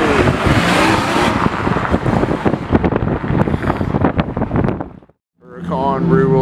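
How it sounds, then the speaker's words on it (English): A Lamborghini Huracan rear-wheel-drive Evo Spider drives a lap, its engine roaring loud and close with wind buffeting the microphone, then cutting off abruptly near the end before another sound resumes. "Huracan rear-wheel drive Evo Spider."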